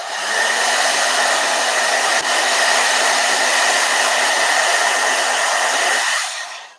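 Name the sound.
blow dryer drying paint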